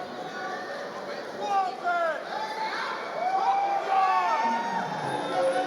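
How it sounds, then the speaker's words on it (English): Irish fans cheer for a fighter at a combat sports superfight event, a steady crowd roar with whoops and shouted calls rising and falling across the clip, moderately loud and fairly close. "Some Irish fans in, cheering for Ben"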